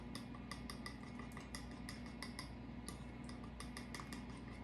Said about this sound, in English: I'm gonna whisk that with a fork.